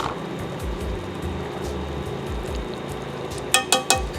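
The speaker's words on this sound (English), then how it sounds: "See how it's boiling on one side?" A pot of bourbon maple syrup barbecue sauce bubbles and simmers steadily with a constant sizzling hiss, then a few sharp clicks near the end.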